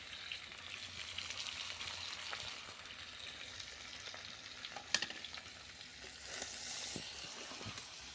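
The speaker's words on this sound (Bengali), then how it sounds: "এগুলো মশলা দিয়ে ভেজে নেবো, একটু কষিয়ে নেবো।" Green plantain and potato sizzle in oil with ginger-garlic paste, salt, cumin, turmeric and chilli powder on a clay stove, a steady close frying hiss with occasional stirring scrapes and one sharp clink midway.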